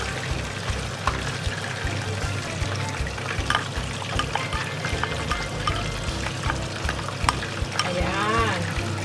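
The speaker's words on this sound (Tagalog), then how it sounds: "At ilagay na ang gata." Coconut milk (gata) pours into pinakbet simmering in a pan, a steady liquid pour over soft frying sizzle and light clatter, with a brief stirring swirl near the end.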